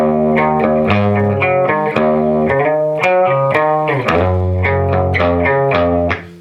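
Distorted electric guitar plays a chugging riff of repeated palm-muted chords and short note runs, loud and saturated, with no voices.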